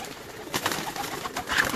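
Pigeons coo in a large loft, brief soft throaty calls rising twice over quiet background.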